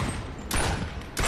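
Gunfire from a video game weapon, loud sustained bursts with a short lull between them, dense and close.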